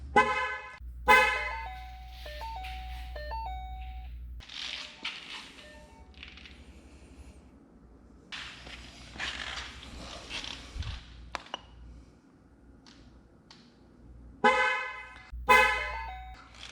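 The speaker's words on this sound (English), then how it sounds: "So that honk verifies that we updated." A Shelby GT500 car horn gives a couple of short honks during a tire pressure sensor relearn, with quieter clicks, thuds and mechanical sounds between them in a quiet setting.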